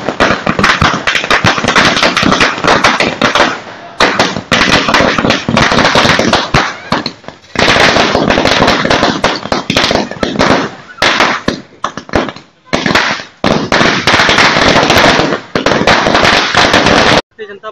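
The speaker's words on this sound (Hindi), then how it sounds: "पालिका अध्यक्ष पाटा साहब के नेतृत्व में आतिशबाजी और मिठाई का कार्यक्रम रखा गया है" Firecrackers crackle and burst in dense, continuous volleys with brief lulls, loud and close, with faint voices underneath, at a street celebration in Pushkar of Ram Nath Kovind's presidential election win.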